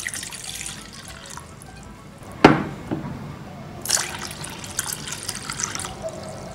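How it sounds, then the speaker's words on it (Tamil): Water poured into a wide cooking pot while preparing Irani tea, a sudden splash followed by a short run of pouring and trickling, close and fairly soft. "இதில் 2 கிளாஸ் தண்ணி ஊற்றிக்கோங்க."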